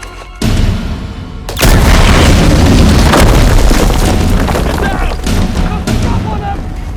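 A thrown explosive detonates in the video game Uncharted 4, a heavy booming blast followed by a sustained loud roar and rumble with crackling debris.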